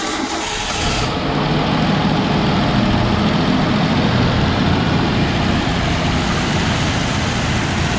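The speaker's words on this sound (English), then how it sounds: "She's idling a little bit high" The engine of a 1966 Ford Bronco idles steadily, loudly and a little high with a deep low rumble, continuous throughout with no talking.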